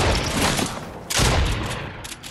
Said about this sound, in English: I'm using double pump, Darian.